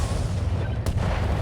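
Heavy Gauss rifle fired from a mech in a combat video game: a deep, rumbling low boom with a sharp crack partway through, loud and continuous.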